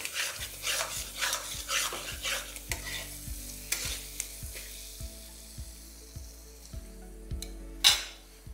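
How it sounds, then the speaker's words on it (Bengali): Masala with a pinch of sugar being stirred in a pan for a black cumin mutton curry, with steady scraping strokes over a soft sizzle, then a louder burst as the mutton goes in near the end. "তারপর এটাকে একবার ভালো করে মিশিয়ে নিয়ে মাটনটাকে দিয়ে দেবো।"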